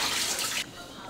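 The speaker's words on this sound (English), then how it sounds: "We're gonna pour this water off" Cooking water is poured off boiled potatoes in a brief, loud hissing splash that stops suddenly partway through, leaving quiet background noise.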